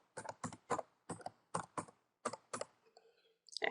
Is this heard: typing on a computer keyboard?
yes